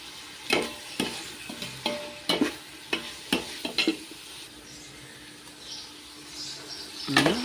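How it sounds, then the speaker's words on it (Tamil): Coriander and mint leaves being sautéed in a pan for homemade dum biryani, with a series of sharp spatula scrapes and stirs over a low sizzle, close and fairly loud. "கொத்தமல்லி, புதினா எல்லாம் போட்டு நல்லா வதக்கணும்."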